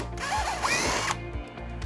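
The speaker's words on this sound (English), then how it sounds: "The remaining screws need to be removed." A power drill backs out a four-inch screw from the front subfascia of a 2026 Dynamax Europa RV, a steady, loud motor whine with rattling ratchet-like clicks, close up with no talking.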